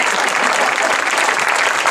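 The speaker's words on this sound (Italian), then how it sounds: "Facciamogli un grande applauso." A loud, dense round of applause for Giancarlo Carboni at the Sa innenna de Lillicu gathering, close and continuous for the whole stretch with no break.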